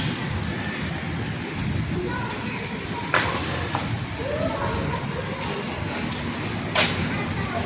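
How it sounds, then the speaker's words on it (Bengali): Heavy rain pours steadily under a dark cloudy sky, a constant wash of noise close around, with a couple of sharper bumps and a voice speaking over it. "অনেকটা বৃষ্টি পড়তেছে"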